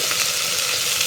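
Potato and eggplant pieces fry in a hot pan with a dense, even, loud hiss that holds steady throughout with no pauses or talking.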